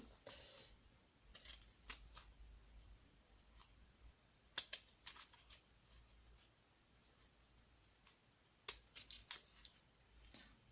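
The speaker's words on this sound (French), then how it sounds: "avec le ciseau cranteur..." Pinking scissors cut through several stacked layers of paper, producing quiet crunching snips in short clustered bursts separated by pauses, close and fairly faint.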